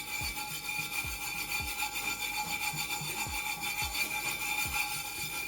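Glitter being rubbed by hand into a tumbler design, a rhythmic scrubbing with regular strokes about every half second, close and steady with no talk over it.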